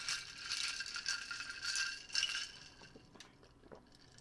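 Strawberry daiquiri with ice, coconut rum and lemonade being stirred: rapid rattling and clinking of ice against the glass for a few seconds, close and moderately loud, easing off toward the end with no talk.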